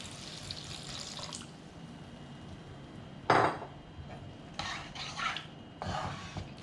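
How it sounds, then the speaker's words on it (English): Water is poured into a pot of sautéed curry base, giving several short splashing, stirring bursts close by over a low steady kitchen background, with no talk. "Bulk of the water goes in at this time."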